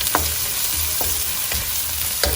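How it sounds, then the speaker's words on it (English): Onion frying in a pan, a steady close sizzle broken by several sharp scraping stirs at irregular intervals, with no voices. "you can put that onion. And you just stir it for a while"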